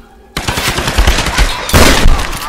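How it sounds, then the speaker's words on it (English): Shotgun fire in the video game Tomb Raider: a loud blast breaks out of near-silence, then rapid, dense reports ring on, with a second heavy volley near the end. "That's why I love the shotgun."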